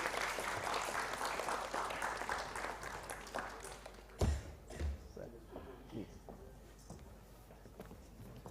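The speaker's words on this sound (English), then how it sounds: "A huge round of applause for our guests." An audience at a youth environmental conclave and award ceremony applauds its guests, a dense burst of clapping that fades after a few seconds into scattered claps, shuffling and faint murmur.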